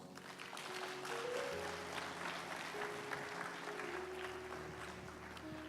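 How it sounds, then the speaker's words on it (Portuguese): A church congregation applauds during a service, steady crowd clapping heard at moderate distance under a sustained organ or keyboard chord. "Amém? Aplauda Jesus."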